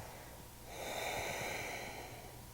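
A single slow, close breath during a hatha yoga session, a soft airy inhale-exhale swelling in the middle and fading away, heard alone with no talking.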